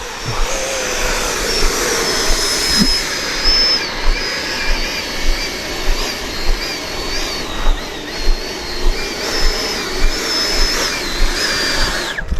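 A Freewing Vulcan model jet taxis nearby with a continuous high-pitched turbine whine and hiss that pulses in rhythmic surges and dips over the full duration.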